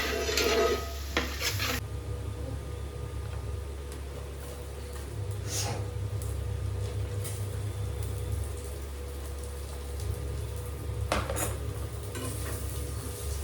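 A Kerala-style biriyani is stirred in a pot, with scraping and clinking of a utensil against metal over a low steady sizzle, continuing closely for several seconds.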